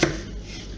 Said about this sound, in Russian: Теперь нам нужно нарезать лук.